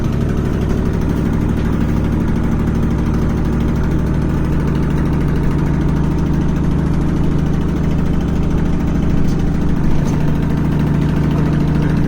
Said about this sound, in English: We're using the Jeep to charge the batteries.